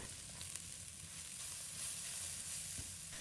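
Shiitake slices stir-fry in a wok with scallion, ginger, garlic and chili, giving a steady, quiet sizzle with faint scraping stirs throughout, no voices.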